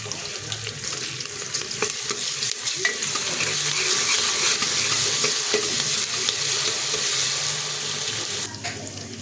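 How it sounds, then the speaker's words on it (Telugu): Ginger hits hot oil for a tempering and crackles in a dense, steady sizzle, with occasional stirring scrapes and taps and no voices. "కొంచెం అల్లం తాలింపు పెడతాను"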